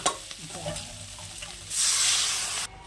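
Vegetables with spices are stirred in a hot pan, a few scraping stirs followed by a loud steady sizzle of frying that cuts off abruptly, close and without talk.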